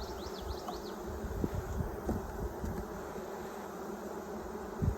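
Many honeybees buzz around a hive in a dense, steady drone, close by, with individual bees whirring past now and then.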